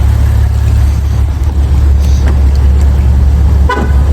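A 2022 Maserati Levante Modena gives one short, loud horn chirp as it locks, standing out near the end above a steady, loud background rumble.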